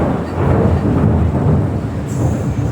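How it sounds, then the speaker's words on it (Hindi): Thunder rumbling close by during a monsoon rainstorm near a house doorway, a loud continuous low roar that fills the whole stretch without a distinct sharp crack. "ऐसे ही कड़क रही है बिजली"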